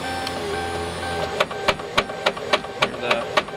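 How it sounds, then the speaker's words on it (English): Ford Crown Victoria power window motor with a worn plastic gear runs in a door, a faint whir followed by a regular series of sharp clicks or knocks, about three per second. "That makes me think it's the motor, because the motor has a plastic gear in it that allows it to spin"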